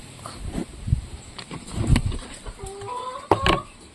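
Backyard chickens waiting to be fed cluck in short, close bursts, several hens overlapping softly with a brief louder call near the end and no talking.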